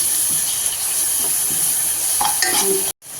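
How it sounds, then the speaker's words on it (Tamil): Ginger garlic paste sautés in a pan for veg white kuruma, giving a loud, steady hissing sizzle with a few stirring scrapes near the end, cutting briefly to silence just before it finishes. "இப்போ இது கூட நம்ம 2 ஸ்பூன் இஞ்சி பூண்டு விழுது சேர்த்துக்கலாம்"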